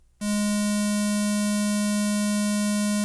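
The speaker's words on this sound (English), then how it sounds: "this oscillator is making a tone all the time" Korg Electribe 2 synth oscillator sounding with no envelope engaged, a pure steady tone that switches on abruptly after a brief silence and holds at constant loudness, with no speech.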